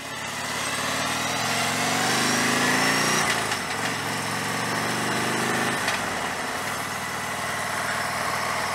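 A Harley-Davidson motorcycle engine idles while stopped on a beach ride, a steady loud rumbling throb with broadband wind-like noise, continuous throughout with a slight dip midway.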